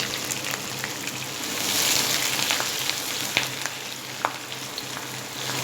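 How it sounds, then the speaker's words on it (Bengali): Chopped onions sizzle in hot oil with a cinnamon tempering over medium heat for Bengali mutton kasha: a close, continuous frying hiss with scattered small crackles and pops, and no talking. "পেঁয়াজটায় হালকা কালার আসা পর্যন্ত আমি ফ্রাই করে নেব"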